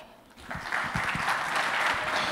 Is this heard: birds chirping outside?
no